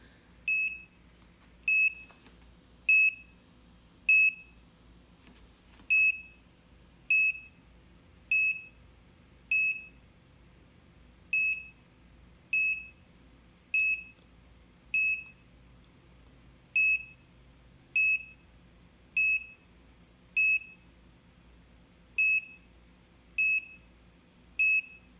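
A digital alarm clock sounds its wake-up alarm: short bursts of bright electronic beeps repeating at a steady rhythm for a long stretch, loud and close, with faint background hum between the bursts.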